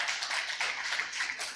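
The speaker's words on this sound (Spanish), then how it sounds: "Dele al Señor un fuerte aplauso" A church congregation applauds during a worship service, producing a dense, fast patter of many hands clapping together at a steady moderate loudness.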